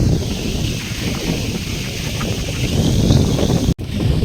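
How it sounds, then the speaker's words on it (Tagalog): Strong, cold wind roars steadily across the microphone along Legazpi Boulevard, a constant loud rushing buffet with low rumbling gusts and no voices. "ang lakas ng hangin tsaka ang lamig"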